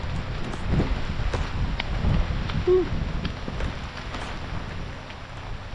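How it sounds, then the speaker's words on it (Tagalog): Rain falling during a passing storm, with gusty wind buffeting the microphone in bursts and a steady wash of rainfall, plus a brief faint voice partway through. "Yan ay ulan, guys."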